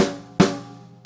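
A few sharp drum-kit hits played as a shuffled eighth-note groove, with two strokes close together and a ringing decay between them, loud and near, no voices.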